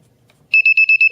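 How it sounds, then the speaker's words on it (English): Cheap non-contact voltage detector held near a live 120-volt plug gives a rapid series of five short, shrill electronic beeps, close and loud after a quiet start. "you see I get a beep that says there's power there"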